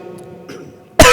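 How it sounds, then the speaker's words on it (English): A single sharp cough bursts out near the end after a stretch of quiet room tone during a live tabletop role-playing game session. "Cough just echoes through the room."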